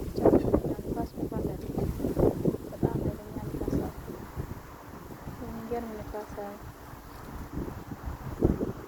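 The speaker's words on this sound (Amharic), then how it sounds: "በጣም እየነፈሰ እሱ እንዳይዘንብ ንፋሱ ሊከለክለው ይመስለኛል።" Strong wind gusts buffet the microphone in loud low rumbling bursts, with someone talking through much of it and a faint tonal ringing partway through.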